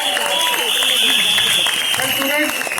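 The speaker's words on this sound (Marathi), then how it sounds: "जोरदार टाळ्या आपल्या टॉपच्या टीम." At the trailer launch event for the film Zapuk Zupuk, a crowd applauds loudly, with dense, sustained clapping and cheering filling the hall.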